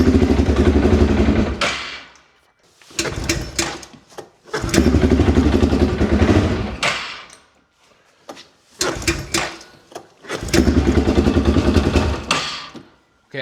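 Repeated attempts to start an old four-wheeler ATV engine, three loud bursts of cranking and sputtering running a couple of seconds each, separated by quiet pauses, close to the microphone.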